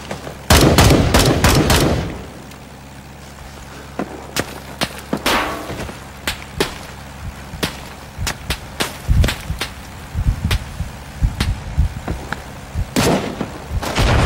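Artillery and gunfire in the Vietnam War shooter game Rising Storm 2: Vietnam, with a loud close burst of shots at the start, then scattered sharp reports and distant booming impacts spread through the scene.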